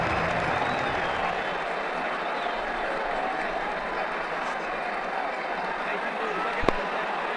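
A large stadium crowd at an IPL cricket match between Mumbai Indians and Rajasthan Royals roars and applauds steadily after a six, a dense continuous wash of cheering with a sharp bat-like crack near the end.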